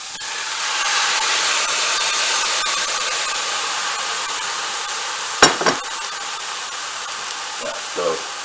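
Rehydrated food and its soaking water poured over onions cooking in a pan give a steady, loud hiss of sizzling, followed by a couple of sharp clunks and a brief voice near the end.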